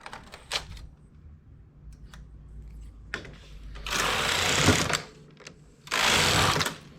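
Knitting machine carriage sweeping across the needles while making a knitted baby blanket, two loud rasping passes of about a second each, close by, with lighter clicks of needle selection between them and no talk.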